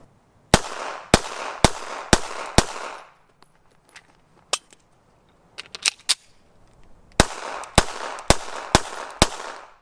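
A Taurus G3C compact pistol fired at a shooting range: a string of five sharp, loud shots in quick, even rhythm, a quieter stretch of small clicks and handling, then another rapid string of five shots.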